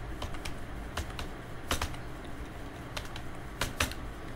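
Typing on a computer keyboard while entering data in an Excel sheet: quick bursts of soft, close key clicks in small clusters separated by short pauses, against a quiet room hum, with no voices.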